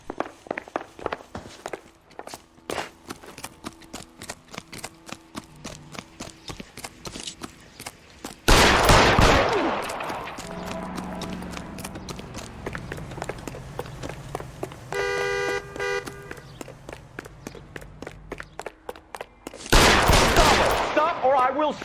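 Bursts of gunfire ring out in an L.A. Noire shootout, two loud volleys some ten seconds apart, with footsteps and other game sounds in between.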